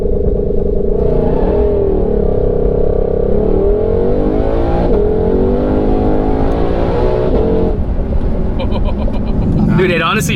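A 2020 Shelby GT500 accelerates hard off a factory launch control start, its loud engine roaring steadily from start to finish with people talking over it.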